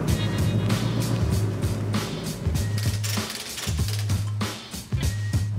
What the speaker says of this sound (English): We're about ready to do our stock dyno pull to get our baseline numbers for the manual GT.